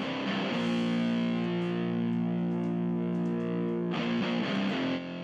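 Distorted intro guitar of a rock song heard without its small-speaker plugin, a full, thick, sustained tone played alone and loud, with a fresh strum near the end before it cuts to a quieter tail.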